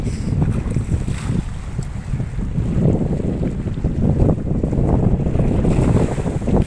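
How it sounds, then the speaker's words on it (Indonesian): Fishing boat out at sea off a beach in Medan, heard as a low rumbling drone mixed with heavy wind buffeting the microphone and surf washing in, continuous and fairly loud with no voices. "Itu ada kapal nelayan"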